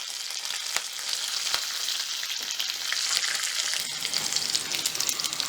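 Onions sautéing in hot oil with green chillies, dried red chillies, curry leaves and asafoetida for an okra tamarind curry, a steady close hiss of frying with occasional sharp crackles and spatters throughout.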